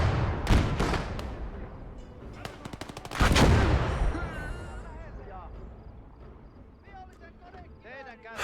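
Machine gun fire in the WWII video game Gates of Hell, with sharp bursts of rapid shots and heavy booming impacts, loud at first and then fading into a distant rumble, with someone talking over it.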